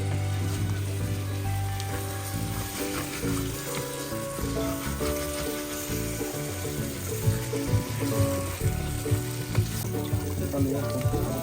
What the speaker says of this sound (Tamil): இதில் வந்து சிக்கனை போட்டு நல்லா வதக்க வச்சுட்டு